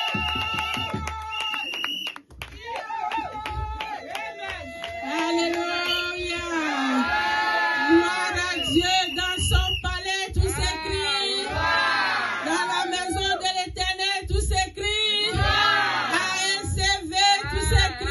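A church congregation cheers and shouts together in a loud, sustained burst of overlapping voices and whoops, rising and falling, with instruments or singing tones woven in.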